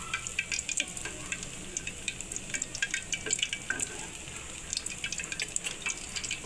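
Excess frying oil from freshly fried beguni (battered eggplant fritters) drains through a metal strainer over hot oil, giving a steady close-up sizzle with fine crackles and drips, and no one talking.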